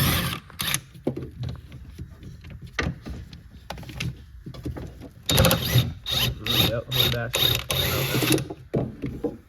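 Two 13 mm bolts are undone with a ratchet during a dashboard evaporator replacement on a Ford Taurus, giving close, irregular clicking and clattering bursts, with busier mechanical rattling in the second half.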